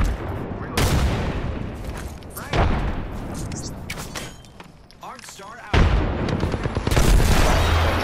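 Grenade blasts and gunfire in a shooter video game: heavy booming explosions at three or four points with rattling shots between them, loud and close, and brief speech under the noise.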